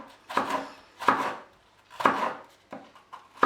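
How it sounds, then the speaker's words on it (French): A knife cuts bell pepper finely on a board for melon gazpacho, giving five sharp, evenly spaced chops close up with no talking. "on vient découper le poivron le plus fin possible"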